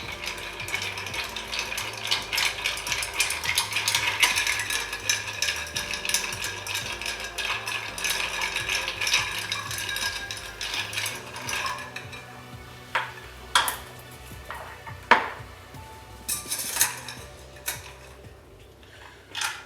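A Vieux Carré cocktail with rye and Benedictine is stirred, giving a steady, close tinkling of ice against glass that slows and thins into sparse, separate clinks near the end; no talking.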